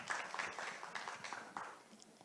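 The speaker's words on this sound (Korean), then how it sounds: "큰 박수 부탁드립니다." Quiet, distant applause from a small audience, a patter of scattered claps that gradually thins out.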